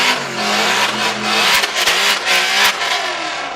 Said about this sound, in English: He's staging up with the very loud and very authoritative sounding Coyote.